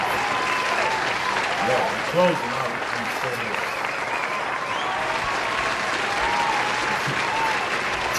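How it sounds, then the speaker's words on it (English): Sustained audience clapping fills the whole stretch at steady, moderate loudness, a dense wash of many hands with a brief swell near the middle and faint voices mixed underneath. "the people just like clapping for you for whatever fucking reason"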